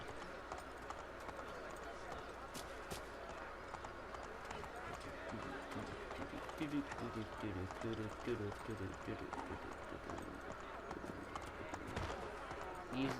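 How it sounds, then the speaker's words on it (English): Horse hooves gallop in the video game Assassin's Creed III, a rapid, steady clip-clop running throughout at moderate level beneath game ambience and occasional talk. "just riding around on a horse"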